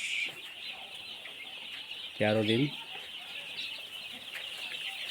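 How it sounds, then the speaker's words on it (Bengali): Young Sonali chickens, 13 days old, on a poultry farm: a steady chorus of high chick peeps runs throughout, with one loud, close cluck-like call near the middle and a voice speaking briefly. "এটা সোনালী মুরগি।"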